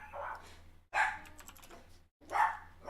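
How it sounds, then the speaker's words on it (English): A dog barks in three separate bursts from another room, fairly faint against the steady clicking of a computer keyboard while someone types. "Doggo barking."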